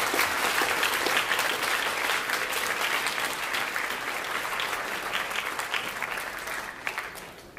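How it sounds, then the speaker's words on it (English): A school awards assembly audience gives sustained applause for sophomore honorees, a thick, even roar of clapping from a large crowd that gradually tapers off toward the close. "Give a round of applause for our sophomore."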